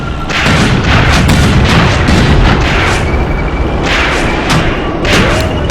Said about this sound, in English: Looks like a tremendous amount of artillery fire also coming from the enemy.